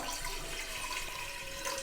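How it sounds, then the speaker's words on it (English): Water pours steadily into a pressure cooker while cooking jackfruit, a continuous rushing, splashing stream heard up close with no talking. "I have taken pressure cooker and I will put some water"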